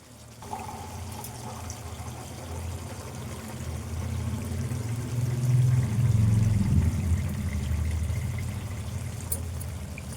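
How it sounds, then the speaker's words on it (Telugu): Water pours steadily into a pot of chicken soup, a continuous gurgling splash that grows fuller midway, heard close with no voices. "నేను ఇప్పుడు ఇందులో ఒక గ్లాసు వాటర్ ఎత్తా"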